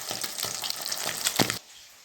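Pieces of fried fish go into hot curry gravy with a bubbling, spattering sizzle and a few sharper splashes, close up, before the sound cuts off abruptly into near silence.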